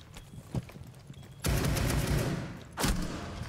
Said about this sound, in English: And he's wall banging now.